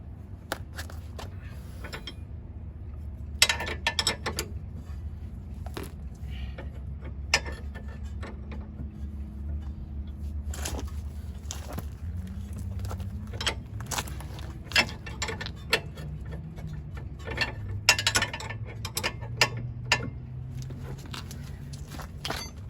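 A ratchet tightens a sway bar end link on a 7th or 8th generation Honda Civic, with scattered close clicking and creaking clusters over a low hum, plus occasional metal knocks.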